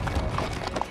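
Horses walking a trail in Griffith Park, Los Angeles, on a morning ride, hooves clip-clopping in a steady close rhythm with a soft whinny-like tone.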